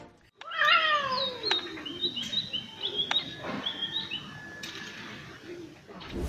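A cat gives a loud, drawn-out meow close by, followed by quieter chirping calls and short squeaks over a faint background hum.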